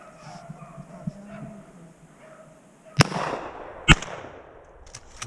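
Two sharp, loud gunshot cracks about a second apart while rabbit hunting on public land in Ohio, followed by a fainter pop, with quiet outdoor background and brief low voices before.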